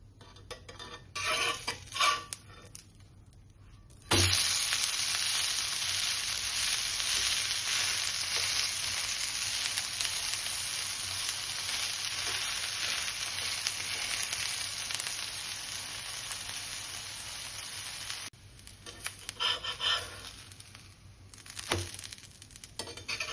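Onion uttappa frying in oil on a pan, a loud steady sizzle that starts abruptly and runs for about fourteen seconds, with light utensil clatter before and after.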